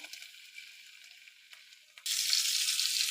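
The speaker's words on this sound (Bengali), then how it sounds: "ইলিশ মাছের মাথাটাকে ভেজে নেব তেলে।" A hilsa fish head coated in salt and turmeric drops into hot oil, where a faint quiet stretch gives way suddenly to a loud, steady close-up sizzle that continues to the end.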